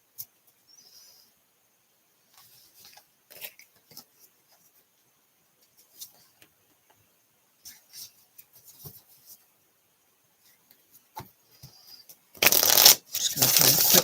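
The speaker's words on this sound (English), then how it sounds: "Shuffle on the cards" Deck of cards shuffled during a card reading, a loud burst of riffling near the end after a quiet stretch of sparse, soft handling taps and rustles.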